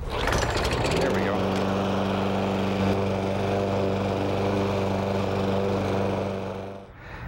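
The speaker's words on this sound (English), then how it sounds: "So I am the battery here for this particular mower, and give it a pull or two." Bagged walk-behind lawn mower without a battery start, pull-started and running steadily up close, its loud continuous engine drone holding for several seconds before cutting out near the end.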